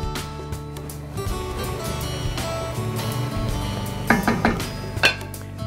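Sausages and meatballs nestled into a pot of Sunday tomato sauce, with soft shuffling and a few sharp metallic clinks of utensil against pot near the end, close and fairly quiet.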